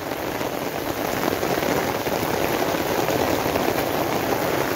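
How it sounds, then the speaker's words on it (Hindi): Heavy rain pours down steadily, a dense continuous hiss of drops striking surfaces, loud and unbroken. "आज तो बारिश रुकने का नाम ही नहीं ले रही"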